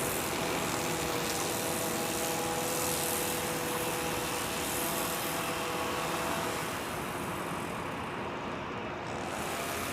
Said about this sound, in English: I think Asiana, the A380 is heading this way.